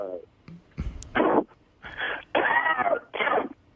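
Several short, harsh coughing bursts, fairly close, spaced out over a few seconds with brief pauses between them.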